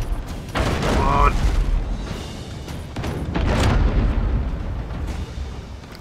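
Deep volcanic eruption booms in the naval game Abandon Ship, with two loud, rumbling blasts close by and a steady roar carrying between them.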